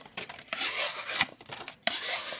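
A flat-ground knife blade of M390 steel slices through cardboard, giving close, scratchy rasping cuts in uneven strokes with a few sharper bursts and short gaps.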